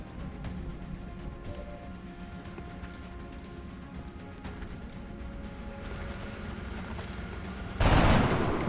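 Video game gunfire in an XCOM Long War Ironman run: a steady spread of faint shots and clatter under a constant background hum, ending in one loud, harsh burst near the close.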